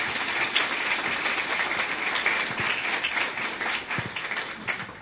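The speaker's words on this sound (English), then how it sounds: "So let's give them a big round of applause." A crowd at a housing complex grand opening gives a steady round of applause, a continuous, even patter of many hands clapping with no break, moderately loud and slightly distant.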